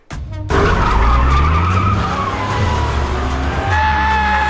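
A car speeds off with tires skidding and squealing in a Transformers film chase, a loud sustained engine roar with a long screech that starts abruptly and runs continuously close up.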